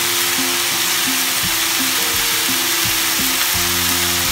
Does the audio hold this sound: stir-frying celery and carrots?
yes